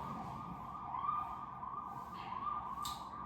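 An ambulance siren sounds outside, a steady wailing tone held at moderate distance behind a continuous low hum, with no one speaking.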